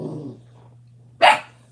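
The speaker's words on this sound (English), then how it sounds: "Got the new puppy letting everybody know that he's here." A new puppy gives a single sharp bark, loud and close, after a soft low growl, with a steady low hum underneath and no talking.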